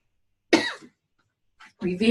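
A person coughs once sharply, then after a pause coughs again with a rougher, throat-clearing quality, close and fairly loud.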